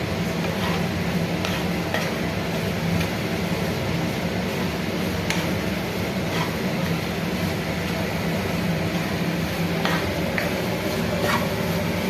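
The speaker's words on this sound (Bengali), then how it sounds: "একটু ফ্লেমটা বাড়িয়ে নিচ্ছি, দিয়ে নাড়তে হবে।" Curry being stirred in a pan over a raised flame, a steady scraping and bubbling churn with faint sizzle running continuously under a constant background hum.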